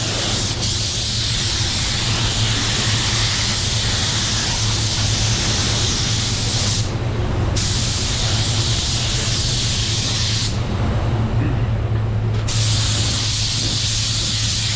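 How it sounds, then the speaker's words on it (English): A spray gun lays down clearcoat paint with a loud, continuous airy hiss that runs almost unbroken for the whole stretch, its bright top end dipping briefly twice as the trigger is feathered. "look at what the gun is doing"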